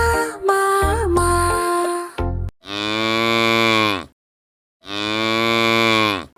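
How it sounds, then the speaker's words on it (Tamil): Cow moos: a sung melody opens, then two long, loud, drawn-out lowing calls with a pause between them, in a children's animal-sounds song. "மாடு எப்படி அழைத்தது?"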